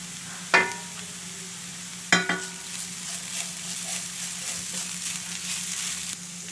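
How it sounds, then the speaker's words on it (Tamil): Vegetables with green chili, coriander and curry leaves sauté in a pan for veg momo filling. A steady close sizzle is broken by a few sharp clinks and scrapes of a stirring utensil, with no speech. "காயெல்லாம் வதங்கிடுச்சு"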